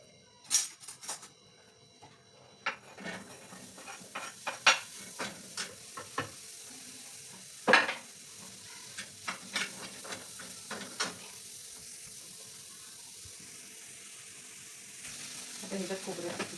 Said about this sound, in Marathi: आणि आता हे भाजून घेते कांदा खोबरं